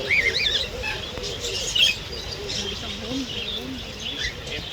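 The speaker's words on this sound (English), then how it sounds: "Yes, there's a hornbill" Birds in a very large walk-through aviary, including a hornbill and starlings, chirping and calling in bright, varied bursts at moderate distance, with a soft flutter of wings and low ambient murmur underneath.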